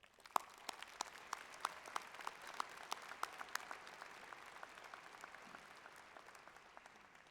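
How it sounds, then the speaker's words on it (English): Graduation audience at a nursing college ceremony applauding families and friends, sharp scattered claps in a large hall, moderately faint and fading slightly toward the end. "Please join me, students, in thanking your family and friends with a big round of applause"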